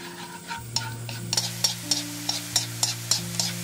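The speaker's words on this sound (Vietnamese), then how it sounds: "Cho phần tỏi băm vào phi lên cho đến khi tỏi hơi chuyển vàng là được nha." Minced garlic sizzles in hot oil until turning golden while a utensil taps and stirs the pan in a steady rhythm, close and fairly quiet.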